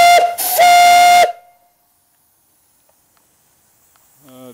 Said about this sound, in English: Whistle, very loud, sounds great,